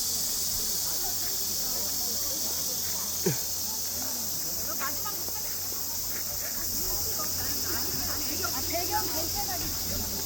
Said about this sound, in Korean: 매미 소리도 나고